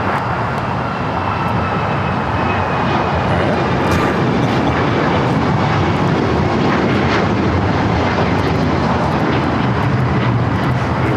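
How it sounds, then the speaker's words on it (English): A KLM airliner inbound from Amsterdam lands on runway 25 left at LAX, a loud, close, continuous engine roar and rushing noise that fills the whole stretch without talk. "we do have KLM arriving here on the south side at 25 left. It's flight 601 and coming from Amsterdam"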